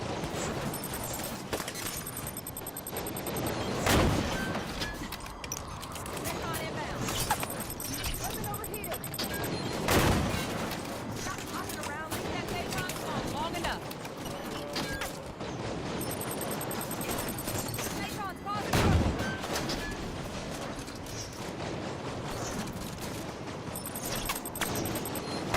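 Enemy gunfire in Halo 5: Guardians crackles through a dense battle mix, with bursts of shots and heavier impacts around intervals, loud and continuous beneath the game's sound effects.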